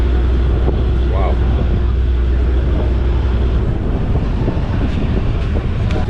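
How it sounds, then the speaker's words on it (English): Likoni ferry crossing to Mombasa Island: a steady low engine rumble and heavy wind buffeting the microphone throughout, with faint voices and occasional knocks on board. "But now I'm enjoying the ride on this ferry right now."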